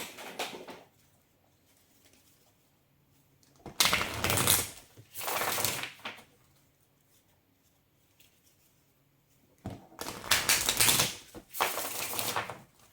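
Tarot cards being riffle-shuffled in four quick bursts, two close together, a pause, then two more, each a crisp flutter between silences.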